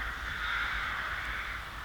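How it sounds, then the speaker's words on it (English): Crows caw in the distance at dawn in a wooded backyard, a harsh raspy chorus blending into a steady wash of sound, faint and continuous with no voices. "Okay, the crows have woken up."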